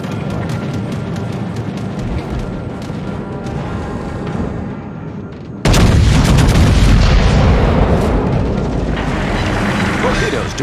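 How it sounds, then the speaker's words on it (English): In a naval combat video game, an enemy destroyer is hit by torpedoes and explodes. Continuous loud booming and gunfire surges into a heavier, sustained blast and rumble midway through. "Torpedoes, direct front. Enemy destroyer blown up."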